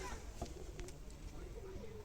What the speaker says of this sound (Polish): Fajny gołąbek.